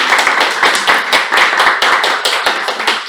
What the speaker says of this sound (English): Let us all welcome Toastmasters of the day, Toastmaster Anil, with a huge round of applause